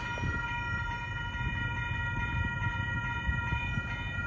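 A northbound Union Pacific intermodal freight train approaches, sounding a K5HL air horn in a sustained multi-tone chord. The horn is steady and fairly loud, backed by a low rumble of the rail cars.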